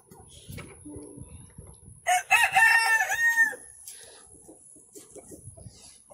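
A bantam Cochin rooster crows once loudly and close, a clear multi-part crow in the middle, with softer clucking and faint background sounds before and after.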